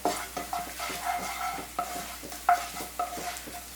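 Onions frying in a pan with green chillies and chilli powder, stirred with regular scraping strokes and soft knocks over a low, even sizzle, fairly close and with no talking.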